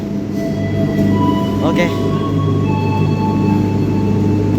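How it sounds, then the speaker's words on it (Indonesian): A departing Sangkuriang passenger train from Bandung rumbles steadily nearby with faint squealing tones from the wheels, while people talk briefly in the background. "Kereta diberangkatkan teman-teman."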